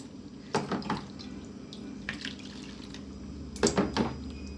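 Pickled olives and their liquid are poured into a large jar, giving a few short splashing, dripping bursts spaced a second or so apart over a steady low room hum.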